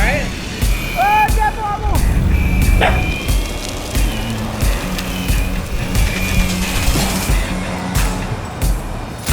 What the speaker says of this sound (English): I'm railing donuts right now